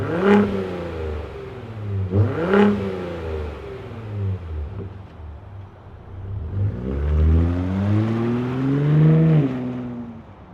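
2025 Ford F-150 Raptor engine starting and revving, close and loud, with two sharp blips of throttle early and then a longer rising and falling rev, no talking.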